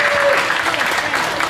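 An audience at a live comedy-style stage show breaks into steady, loud applause, a dense wash of clapping filling the whole short moment.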